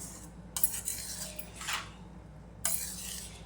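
A spoon scrapes and clinks against a bowl while puffed rice is mixed with powdered salt, three or four faint, brief metallic scrapes on a quiet background.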